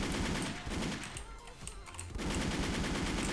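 Rapid bursts of automatic gunfire from an AER Alsancak rifle in a first-person shooter video game, loud and sustained with a brief lull in the middle.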